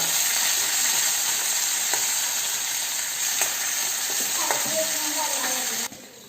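Chopped garlic and curry leaves crackle and hiss loudly in hot oil as they are stirred, with a few sharp scrapes of the spoon against the pan near the end.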